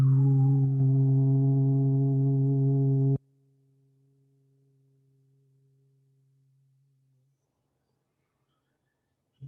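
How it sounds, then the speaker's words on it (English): Steady sine-wave test tones ring loud and level for about three seconds, cut abruptly to a much fainter tone that fades out, followed by near silence and a short click at the very end. "I'll begin these tones now."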